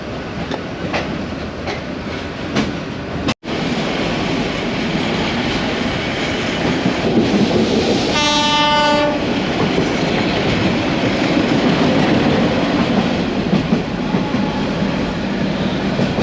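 Local train on the Dhaka to Narayanganj line running from Kamalapur toward Gendaria station, a loud continuous rumble and rattle of the carriages with one short horn blast midway.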